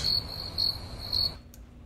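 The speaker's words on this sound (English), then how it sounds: "Summer night." Crickets chirp in three evenly spaced bursts of shrill trilling over a low ambient bed, part of a summer night background soundscape in Zorin OS, then the sound cuts out to near silence.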